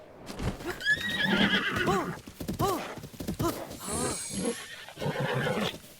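Horse with a wild temperament in The Legend of Zelda: Breath of the Wild, giving several loud, close whinnies and snorts with a few hoof clops in between.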